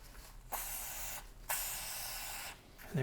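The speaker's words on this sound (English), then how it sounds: "Then I'll spray brake cleaner in there." Three bursts of aerosol brake cleaner spraying, hissing close and steady, each lasting about a second with short pauses between them, during a clutch slave cylinder rebuild.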